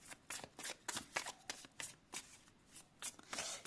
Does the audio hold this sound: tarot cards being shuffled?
yes